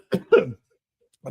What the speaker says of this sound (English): Apologies, I have a bad cough.